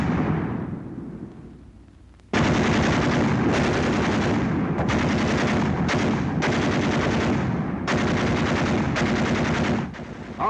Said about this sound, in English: Ever hear a battle between 2 machine guns?